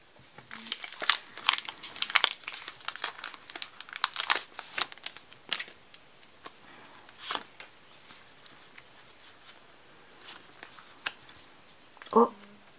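Crinkling plastic wrapper of a Pokémon trading card booster pack being torn open and handled, a run of close, dry crackles and rustles in bursts over several seconds, thinning out toward a final sharp crinkle.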